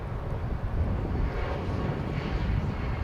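Jet airliner landing or taking off at Dallas/Fort Worth Airport, heard from the Founders Plaza plane-spotting area: a steady, broad roar of engines and rushing air holding loud and even throughout, with some wind buffeting the microphone.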